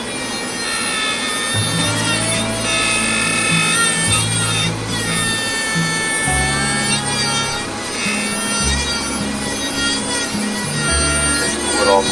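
Rotary carving tool with a carbide tip cutting into a wooden chickadee carving, a continuous high whine with rasping, grinding bursts that shift in pitch as the bit digs in and eases off.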